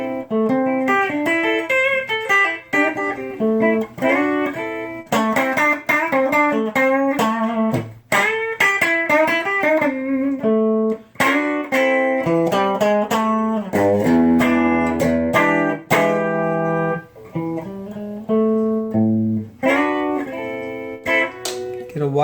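Stratocaster-style electric guitar on the neck pickup plays a run of clear, sustained notes and chords, loud and close, with no voices.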